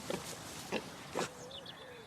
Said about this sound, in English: And the important thing to remember about these pigs is that some of them are big and some of them are small.